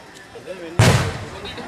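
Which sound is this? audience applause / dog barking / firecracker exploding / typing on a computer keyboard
firecracker exploding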